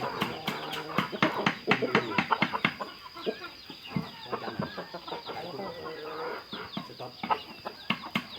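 Chickens fed on Napier grass peck and cluck close by, with sharp repeated pecking taps and clucks, plus a steady high whine in the background.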